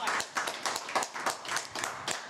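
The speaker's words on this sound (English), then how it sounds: "Clap it up for the chat" A small group claps steadily in a room for a few seconds, a close, quick, even patter of hand claps with no talking.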